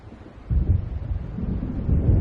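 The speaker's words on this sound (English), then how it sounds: "It seems there's a storm coming." Low rumbling thunder from a storm rolling in across the water in the video game Alan Wake, a deep steady roll that swells and holds for a couple of seconds with no talk over it.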